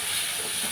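Pepper masala paste boiling in a pan, a loud continuous hiss with a faint bubbling texture beneath, steady and close throughout with no talk.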